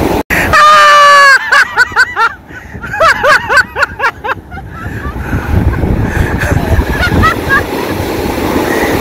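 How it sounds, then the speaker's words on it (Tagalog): Strong ocean surf pounds the shore at Claveria in northern Luzon, a steady broadband roar swelling toward the end, while voices shout and talk loudly over it early on. "Ang lalakas ng mga alon."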